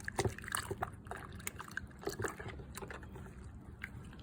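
ATV parts, including a housing, are swished and scrubbed in soapy water to loosen oil and dirt, making close, irregular sloshing, dripping and splashing sounds that come in short bursts.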